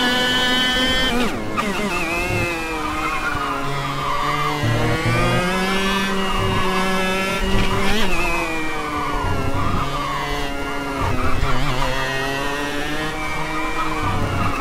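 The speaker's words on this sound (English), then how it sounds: "You don't want to be too low in the revs because not a lot of torque from this engine" Kart engine in the Automobilista racing game whines steadily throughout, its pitch climbing and dropping with each shift of revs through corners, loud and close with brief tire scrubs mixed in.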